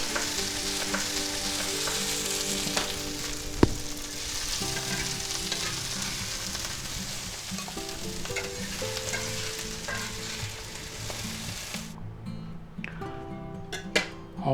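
Onions, celery and bean sprouts are briefly stir-fried in hot oil, giving a steady, close sizzle with scraping and clattering of stirring, fairly quiet and continuous, with no talk.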